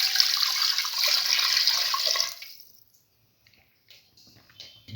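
Water pours steadily into a cooking pot for soaked mung beans and rice, a loud continuous splashing gush for about two seconds that then cuts off, leaving faint clinks and quiet handling noises.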